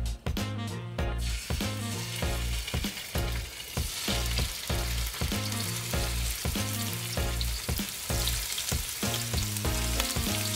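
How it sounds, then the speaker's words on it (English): Fish and shrimp sizzle steadily in a hot pan, a dense, loud crackling hiss with repeated rhythmic scrapes and clatters as the seafood is stirred and moved. "Now we got the fish and the shrimp right now sizzling in a hot pan"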